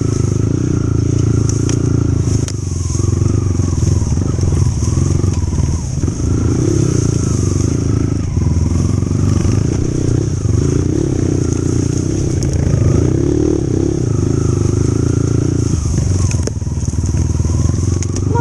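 A dirt motorcycle pushing through an overgrown trail, its engine droning loudly and close with repeated revving surges, crackles and clatter from brush and terrain, while a rider's voice occasionally talks over it.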